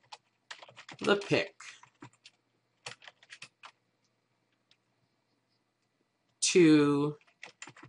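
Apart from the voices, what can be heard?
typing on a computer keyboard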